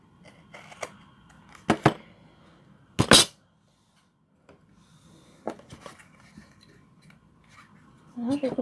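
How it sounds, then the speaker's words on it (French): Scissors cut through paper or card for a craft box, with a few sharp snips spread across the stretch and a louder cluster in the middle, amid quiet handling noise. "je vais couper de l'autre côté maintenant"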